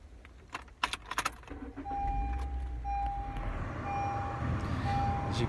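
A 2012 Honda Civic LX sedan engine starts after a few key jangles and clicks, then settles into a steady low idle with a faint high chime sounding repeatedly over it.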